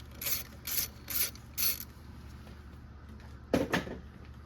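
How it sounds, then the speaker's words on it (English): Ratchet turning out 10 mm bracket bolts on a Toyota 3.4L 5VZ-FE V6 engine: four quick clicking bursts close up, a pause, then one more rattling burst, with no talking. "I'm going to take this bracket off here. This is also a 10 millimeter."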